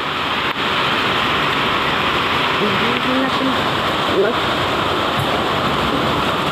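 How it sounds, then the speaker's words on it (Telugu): Heavy rain pours down in a dense, constant hiss that fills the whole space without a break. "వర్షం చూడండి ఫుల్గా అయితే కొడుతుంది."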